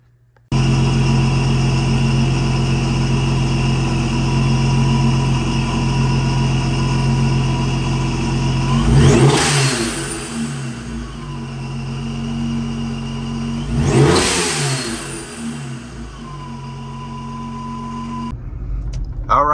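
Boosted Chrysler 300 engine with new pulleys running steadily at a smooth idle, close and loud, with two quick revs that swell up and drop back before it settles again.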